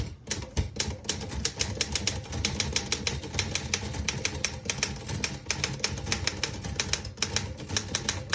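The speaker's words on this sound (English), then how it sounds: "I'll type a sentence on the next line." Rapid, crisp mechanical keystrokes clack on a 1926 Royal 10 manual desktop typewriter in an uneven stream, close and clear, with no talking.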